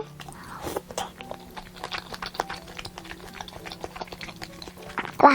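Bacon from Yeopgi tteokbokki being chewed close up, soft repeated crunchy bites and mouth sounds in an irregular rhythm, with no talking over them.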